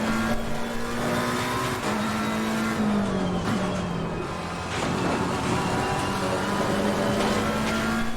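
A race car engine in Assetto Corsa Competizione held at full throttle, a loud continuous high drone with shifting pitch and brief gear-change dips, steady and close throughout.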